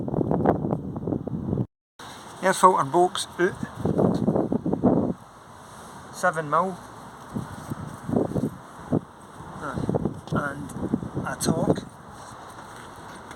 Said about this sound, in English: I'll apologise in advance for the wind.